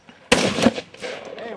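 A single sharp gunshot cracks during outdoor target shooting, followed by a short fading echo and faint background sound.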